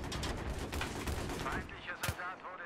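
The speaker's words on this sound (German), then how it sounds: "Ich schieße auf die." Rapid gunfire from a Battlefield 3 multiplayer match rattles through a short burst of close shots, with a sharper crack near the end, set under a busy mix of game noise and voices.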